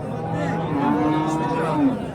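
Cattle moo at a livestock bazaar in Kattaqo'rg'on, Samarqand region, with several drawn-out low calls overlapping near and at mid distance amid a steady market hum and background crowd.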